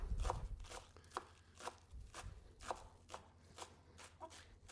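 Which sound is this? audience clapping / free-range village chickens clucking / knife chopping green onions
knife chopping green onions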